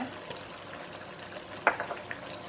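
Chili, beans and pork are stir-fried in a pan, giving a continuous low sizzle broken by a few sharper crackles and stirring clatters toward the end.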